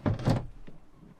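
A cupboard door in a campervan conversion is pushed shut, giving two quick close knocks followed by a fainter soft thud, quiet and alone.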